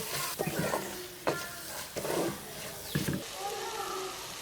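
Onion with chili powder, garam masala, chicken masala and salt being stirred in sesame oil: soft sizzling under repeated scraping strokes of a spoon against the pan, with a voice speaking over it.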